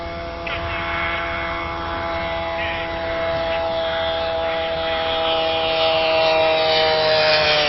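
A propeller racing airplane drones steadily overhead during a fast, low pass at over 200 mph, a sustained engine roar with strong tonal harmonics that grows slightly louder toward the end.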